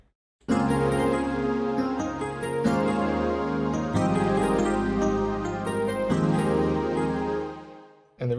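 Electric piano chords layered with a Purity synth pad in a pluggnb-style beat, a continuous, full chord progression with bright tinkling keys over the warm sustained pad, ending abruptly.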